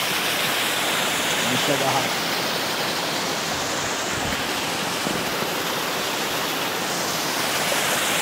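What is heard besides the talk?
waterfall along a hiking trail in Switzerland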